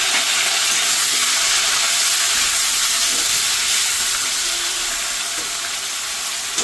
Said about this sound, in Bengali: আলু আর পেঁয়াজটাকে একটু ভালো করে ভেজে নিই।